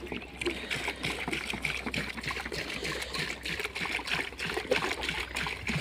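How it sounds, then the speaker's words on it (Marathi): Water poured from a container onto plants in a farm field, a steady, fairly quiet trickle and splatter that continues throughout. "चालायचं आणि असं तर पाणी पाजायचं."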